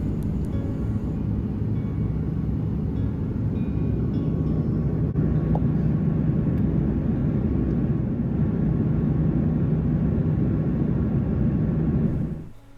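Steady, loud, broadband cabin roar inside a Sri Lankan Airlines Airbus A330-300 climbing toward 39,000 feet on a Malé to Colombo flight, continuous and unchanging before cutting off abruptly at the end.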